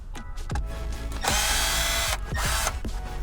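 Power screwdriver driving out dashboard trim screws on a car, heard in several short close whirring bursts, with a longer sustained run in the middle and brief pauses between.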